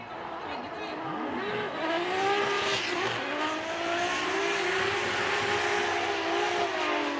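Formula Drift Japan competition car drifting through a course, with continuous loud tire squeal and engine wail sweeping in pitch over steady crowd and track ambience.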